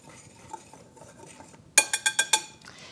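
A whisk works dry baking ingredients, including salt, together in a bowl for pumpkin cheesecake bread. Soft, quiet scraping gives way to five sharp, evenly spaced metallic clinks against the bowl.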